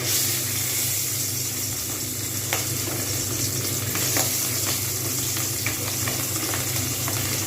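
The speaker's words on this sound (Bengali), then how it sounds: "এবারে আমি আঁচটা কমিয়ে দিয়ে মাছ দিয়ে দেবো" Pabda fish fries in hot oil, giving a loud, dense, continuous sizzle with small crackles and pops throughout. No one speaks.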